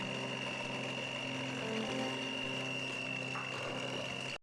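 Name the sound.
electric hand mixer mixing cake batter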